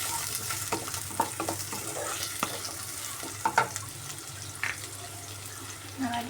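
One medium onion frying in a pan for semiya upma gives a soft, steady sizzle with scraping stir clicks and light clatter, fairly quiet and close.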